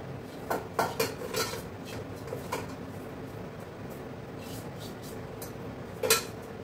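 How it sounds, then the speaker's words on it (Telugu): Cooked rice is mixed in a pot with the stove turned off, giving a few light clinks and scraping knocks of metal in short bursts over a quiet background, with one more clatter near the end. "స్టవ్ ఆఫ్ చేసి ఇంకా రైస్లో వేసి మిక్స్ చేయడం"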